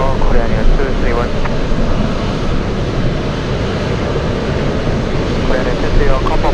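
Korean Air 231 jet taking off from runway 15 at Anchorage in gusty wind, a loud steady engine roar with broadband rumble and wind buffeting throughout, radio-style talk faintly over it.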